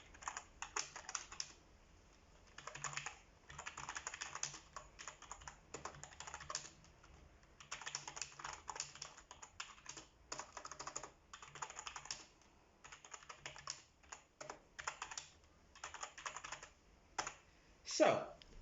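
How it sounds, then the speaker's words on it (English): Typing on a Trust GXT865 gaming keyboard fills a long, close stretch of quiet, uneven bursts of key clicks, broken by short pauses, with one louder sharp knock near the end. "So, let's attempt to type on this."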